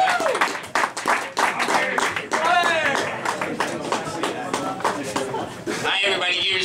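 At a comedy roast in a Tewksbury, Massachusetts restaurant, an audience claps and cheers for a comedian coming on stage. Bursts of applause and whoops mix with a loud voice speaking over the noise.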